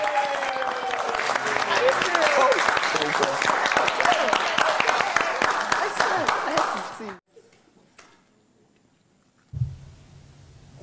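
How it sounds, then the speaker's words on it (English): Studio audience and housemates clapping during a reality show house game, dense applause with cheering voices for about seven seconds, then it cuts off to near silence and a brief low rumble. "These five housemates deserve a round of applause."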